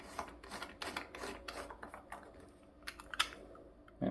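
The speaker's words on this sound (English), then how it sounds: "We tightened it with, in this case, Allen key" Small nut on a 3D-printed diving torch being tightened with an Allen key, giving faint close clicks, rubs and scraping taps in an irregular series.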